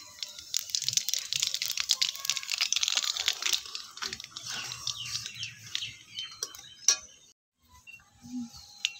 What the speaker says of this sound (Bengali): তেলটা গরম হয়ে গেছে, এবার আমি একটা তেজপাতা ফোড়ন দিয়ে দিচ্ছি, আর দিয়ে দিচ্ছি কালো জিরে ফোড়ন।